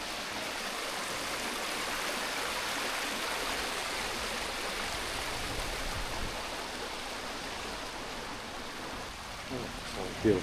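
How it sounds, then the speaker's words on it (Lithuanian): A waterfall and stream on a road trip through the Scottish Highlands, a steady broadband rush of flowing water heard continuously throughout. "O, čia reikia sustoti prie krioklio."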